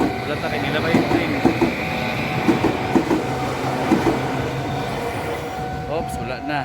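A train rolling past in Japan, rhythmic clicking of wheels over rail joints and a steady rumbling, heard from nearby with a faint squeal near the end and people talking over it.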